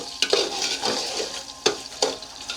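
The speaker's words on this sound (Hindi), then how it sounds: "इसको अच्छा से यहाँ पे मिक्स करेंगे" Sweet rice with sugar and cardamom is stirred in a pot for zarda, a low frying hiss broken by several sharp scraping and clinking strokes of the spoon.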